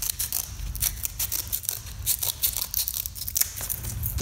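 Scissors snip repeatedly through sandpaper, cutting it into strips for band files, with a steady run of close crisp cuts and papery crinkling throughout.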